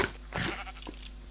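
A single sheep bleats in Minecraft with the Tropicraft mod, a short wavering baa heard close and fairly quiet over a steady low background hum.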